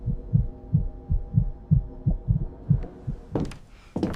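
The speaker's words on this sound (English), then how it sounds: "Beneath 20 hertz, a heartbeat appeared." Low heartbeat sound effect in an infrasound horror story, a deep throbbing pulse repeating about every third of a second, fairly loud and alone, ending with a couple of brighter noisy bursts.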